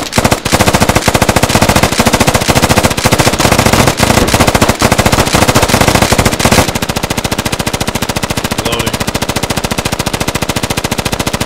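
Sustained automatic machine-gun fire in the military shooter Squad, loud rapid bursts of close gunshots hammering continuously for over ten seconds with only brief pauses, with no talk over them.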